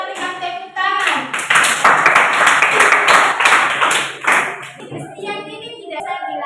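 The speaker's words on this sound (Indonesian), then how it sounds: "Kita berikan tepuk tangan." A class of schoolchildren in an Indonesian grade 8 science lesson claps hands together, a loud dense patter of many hands lasting several seconds, with children's voices chattering over it and a brief lull before the clapping picks up again.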